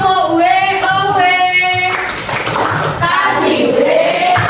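A classroom group performs a rhythmic "WOW" clap together, with loud, dense group clapping bursts mixed with children's voices chanting in a steady cadence.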